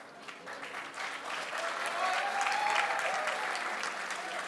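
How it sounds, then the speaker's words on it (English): Audience applause for a 35-year-old gold medalist at a 25m rapid fire pistol shooting World Cup in Bhopal, India: steady, fairly faint clapping that swells slightly and holds without talk. "Give him a big applause."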